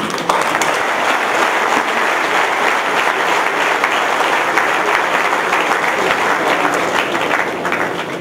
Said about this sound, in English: Let us give them a big hand of applause.